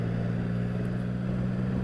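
A 2016 Triumph Rocket III Roadster's huge roughly 2,300 cc engine drones steadily while riding, a low, even hum with a dense rumble and no voices.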